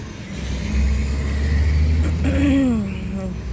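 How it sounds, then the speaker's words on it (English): A trailer rolling past a backyard garden, a loud low engine rumble that swells and fades over several seconds, with a voice speaking over it. "sorry, there was a trailer passing by"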